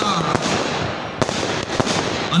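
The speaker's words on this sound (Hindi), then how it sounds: "सुंदर आतिशबाजी का आनंद लें" A fireworks display at a Dussehra festival Ramleela celebration sets off several sharp crackling bursts and pops at irregular intervals, with brief whistling streaks and faint background voices.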